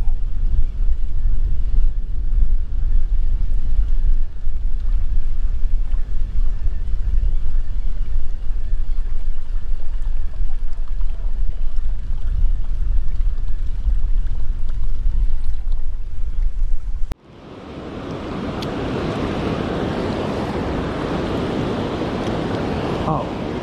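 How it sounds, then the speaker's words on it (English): Heavy gusts of wind by the Ohio River falls buffet the microphone with a deep, roaring rumble for most of the stretch, then shift abruptly to a hissier, lighter rush near the end. "super windy"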